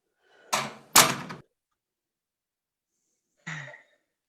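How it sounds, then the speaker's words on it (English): A door in an old-fashioned office being pushed shut, two quick close thuds followed after a pause by a third softer knock or latch, alone in an otherwise quiet room. "Close the door."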